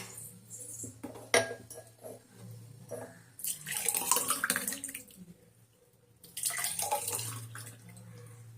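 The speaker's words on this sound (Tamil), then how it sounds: "இப்போ நம்ம வந்து இதை வந்து கிளாஸ்ல ஊற்றிக்கலாம்." Coconut juice poured into a glass, a liquid splashing stream in two bursts with a quiet gap between, close and alone.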